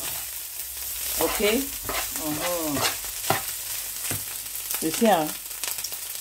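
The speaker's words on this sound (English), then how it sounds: "This is where you do your fried rice. You fry it," Fried rice frying and being stirred in a pan gives a steady, close sizzle with bursts of scraping, while a person talks over it throughout.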